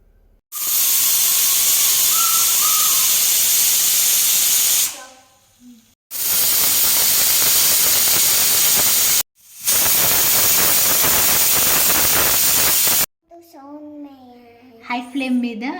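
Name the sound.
pressure cooker whistling and releasing steam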